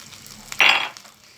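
Grated ginger hitting hot oil in a pan while cooking momos, one sudden hissing sizzle that flares up loudly and fades within a fraction of a second, close by with faint kitchen clatter around it.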